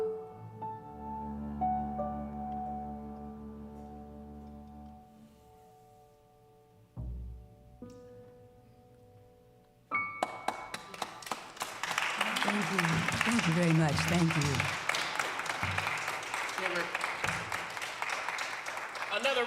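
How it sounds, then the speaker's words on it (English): Applause from a church audience at an evening jazz vespers service with a band, breaking out after music and continuing as a dense, steady patter of claps while a voice thanks the crowd. "Another round of applause for Vespers Church"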